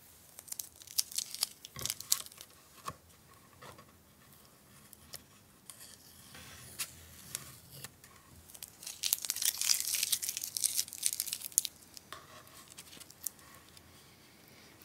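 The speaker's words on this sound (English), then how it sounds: "let's remove the masking tape" Masking tape peeled from hot press watercolor paper, giving a series of near, dry tearing and crinkling rips with a longer, brighter peel in the middle, and no talk.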